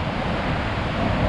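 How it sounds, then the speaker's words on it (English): Niagara Falls roars as a steady, dense rush of falling water, loud and continuous with wind buffeting the microphone and no voices. "the falls are just right over here"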